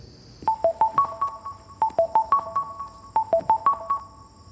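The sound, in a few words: phone call ringing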